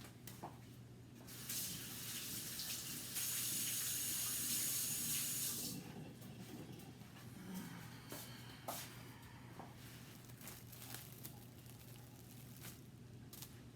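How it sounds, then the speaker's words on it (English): Tap water runs into a sink for hand washing, a faint hissing splash that swells for a few seconds, then stops, leaving low room hum and scattered small knocks. "I'm gonna wash my hands off"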